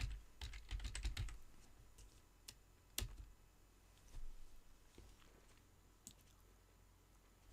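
Quiet clicking of computer keyboard keys as a name is typed into a field, a quick burst of keystrokes at the start followed by scattered, sparse taps; close and faint with no voices.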